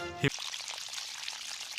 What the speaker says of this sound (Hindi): शिनचैन पौधों में पानी डाल रहा है